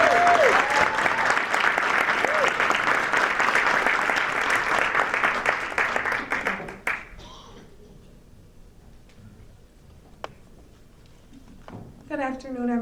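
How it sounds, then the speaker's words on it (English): An audience at the 34th Annual African American Read-In gives a loud round of applause that fills the first half and then stops abruptly, followed by quiet room sounds and a voice beginning to speak. "Give her a round of applause, everyone."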